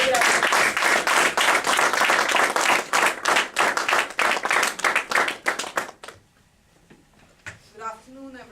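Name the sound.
audience applause welcoming a speaker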